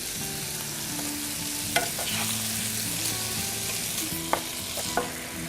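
Beef stir fry sizzles steadily in a hot skillet, a continuous close frying hiss broken by a few sharp clicks of a utensil against the pan.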